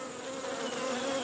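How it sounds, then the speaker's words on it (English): Honeybees hum around a queen cage as the colony accepts a new queen, a steady, fairly quiet close buzz with a faint droning pitch and no voices. "This is what bees do when they accept the new queen bee."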